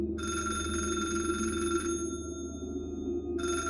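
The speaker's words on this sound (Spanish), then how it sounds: "Poco después, el teléfono comenzó a sonar." An old-style telephone rings with a bright electric bell in two bursts separated by a short pause, loud and close over a low steady hum, with no one speaking.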